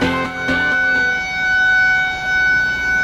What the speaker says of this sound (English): Meet the electric Siren DB-200B, built for emergencies, alerts, and full area coverage.